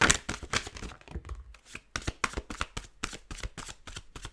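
Rapid riffle-shuffling of tarot cards, a steady run of crisp papery flutters and slaps repeating about every third of a second, close and clear with no talking.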